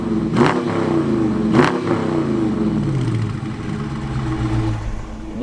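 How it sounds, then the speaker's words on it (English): A 2020 Dodge Challenger R/T with a stock 5.7L HEMI V8, warmed up and revved in place: two sharp, loud throttle blips followed by a sustained, deep rev that slowly falls away. "We got the car warmed up now, so let's do some revs."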